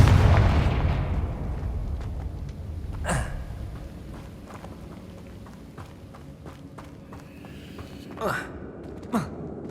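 Confringo fire spell cast in the video game Hogwarts Legacy, heard as a heavy rumbling blast that fades out, followed by a few sharp whooshing magic effects. A voice calls out over the start.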